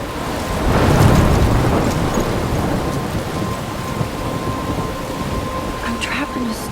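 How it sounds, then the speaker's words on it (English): A heavy thunderstorm in the video game Life Is Strange: steady loud rain with a rolling rumble of thunder swelling early and then easing into a constant downpour. "I'm trapped in a storm?"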